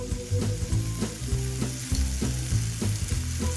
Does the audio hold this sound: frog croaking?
no